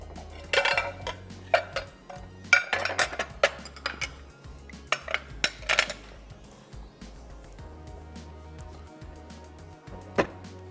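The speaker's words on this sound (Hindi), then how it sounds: "फालतू बर्तन हटा देते हैं ऐसे सारे" Metal pots and pans clatter and clank as they are shifted aside in a kitchen before a grill pan is used, with loud scattered bangs early on that thin out to one last clink.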